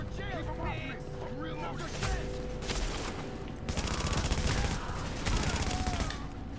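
Sustained auto rifle gunfire in The Division, dense rapid bursts loud throughout over layered game effects, with brief voice chatter mixed beneath.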